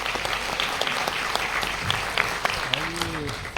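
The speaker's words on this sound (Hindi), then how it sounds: "एक बार जोरदार तालियां होनी चाहिए मेरी आदत के लिए।" Audience applause at a women's success testimony event: a steady burst of clapping from a crowd, fairly close and continuous for a few seconds, with a brief voice rising through it.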